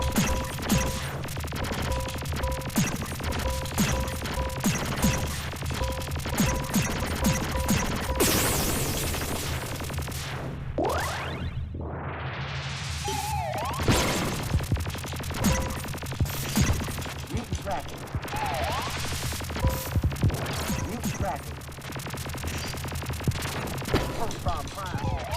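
Bombs exploding in a retro arcade video game, amid a dense stream of rapid electronic shots and clatter, with descending whistling sweeps midway and steady busy noise throughout.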